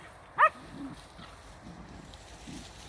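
A single short dog bark rings out once, faint and outdoors on a country walk near Dorchester, Dorset, followed by quiet background sound.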